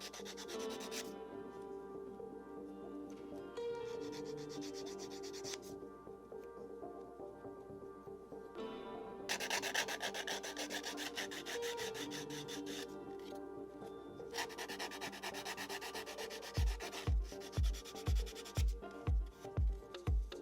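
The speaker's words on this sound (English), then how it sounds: "I gave them a light sanding with a sanding stick to remove any rough edges." Steady scratchy rubbing of a sanding stick on small plastic model-kit parts, continuous back-and-forth friction, ending with a few quick rhythmic taps.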